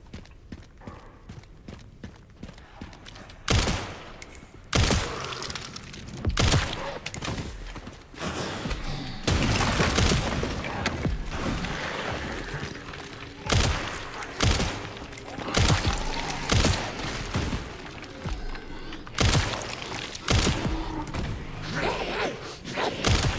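Pistol shots in the video game Resident Evil Requiem ring out as sharp, loud cracks in irregular bursts, some fired in quick succession, with quieter stretches of movement and clatter between them.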